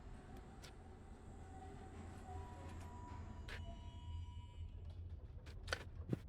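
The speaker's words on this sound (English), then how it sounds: "Let's jump on the tram." Tram riding along rails in the video game Abiotic Factor: a steady low rumble of wheels and carriage with faint creaks, ending in a few louder clanks and squeals near the close.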